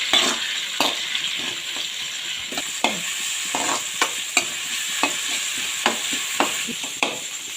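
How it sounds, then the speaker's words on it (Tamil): Onions and tomatoes being sautéed in a pan for liver gravy, a steady close sizzle broken by regular scraping stirs of a spatula, with no talking. "தக்காளி சேர்த்து நல்லா வதங்கி வச்சிடலாம்"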